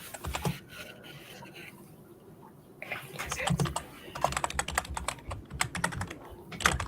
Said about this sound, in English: I can see a lot of typing